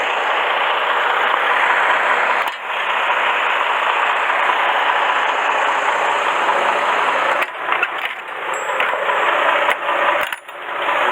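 A truck engine idles steadily and loudly at a produce loading area in Nogales, Arizona, a constant broadband drone with a few brief knocks and clatters near the end and no talk.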